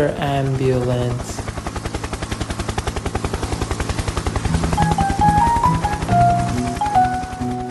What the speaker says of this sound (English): Air ambulance.